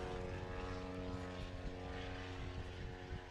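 A Maule light aircraft fitted with a nose wheel roars through a STOL takeoff at an airshow competition, its propeller engine a loud, steady drone that holds close and constant throughout.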